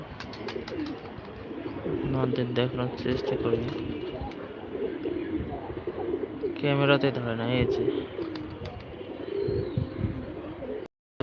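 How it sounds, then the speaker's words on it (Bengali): Neighbour's pigeons being flown under a cloudy sky, with soft cooing and bird calls heard beneath someone talking throughout. "আমাদের পাশার পাশের বাসার এই যে কবুতর উড়াই দিছে"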